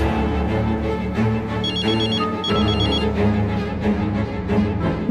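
A telephone rings twice in a dubbed drama scene, with short warbling electronic trills over a dense bed of music and ambience, fairly loud and close.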